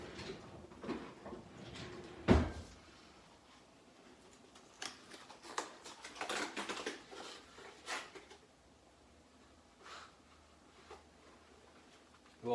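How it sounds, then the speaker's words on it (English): Aluminum foil is handled and pulled from its roll in a kitchen, with a sharp crinkling snap near the start and later bursts of rustling and tearing, close and fairly quiet with pauses between. "let me grab some foil real quick"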